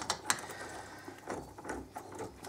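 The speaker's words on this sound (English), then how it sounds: "So what we're going to do is just run these bolts up a little bit, just snug them up a bit." A ratchet snugs up the sprocket bolts on a 2013 Aprilia Tuono, giving quiet close-up clicking in short bursts with small metallic taps in a quiet workshop.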